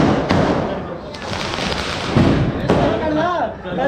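Firecrackers bang repeatedly during Diwali celebrations in Delhi, with several sharp bursts and pops at close range amid busy street noise, and voices talk briefly near the end.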